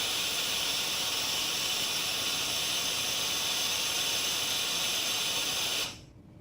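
An EXAIR cabinet cooler running on compressed air, giving a loud, steady broadband hiss that holds evenly and then cuts off abruptly near the end.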